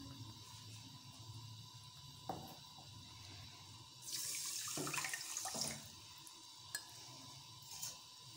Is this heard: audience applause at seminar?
no